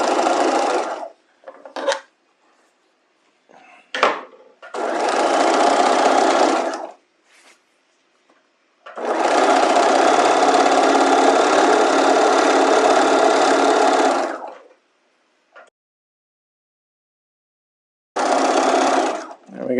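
A sewing machine stay stitching a fabric bias strip, running in several bursts of steady whirring, one long run of several seconds, separated by silent pauses.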